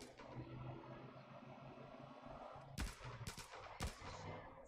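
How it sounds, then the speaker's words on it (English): Gunfire aimed at the player in the Far Cry 5 video game, a low continuous rumble of shooting with several sharp, loud shots standing out in quick succession toward the end. "Why do you have to shoot at me?"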